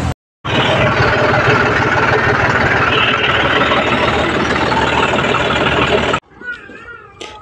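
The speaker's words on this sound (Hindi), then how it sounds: "अभी मशीन चालू हो चुका है" A Mahindra 475 DI tractor engine runs steadily close by, a loud, dense broadband roar holding constant for several seconds before cutting off abruptly, followed by quieter background sound.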